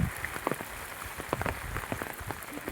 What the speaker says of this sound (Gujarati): આવું પાણી વરસાદ ચાલુ છે.